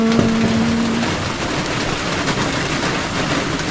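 Heavy rain pours steadily over a chili pepper field, a loud, dense, unbroken hiss with a faint short tone near the start.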